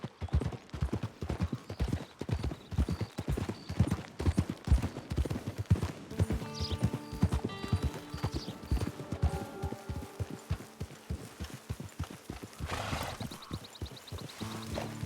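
Horse hooves clip-clop at a brisk, steady gait in the video game Red Dead Online, close and rhythmic, with tack jingles and faint music or ambient tones rising toward the end.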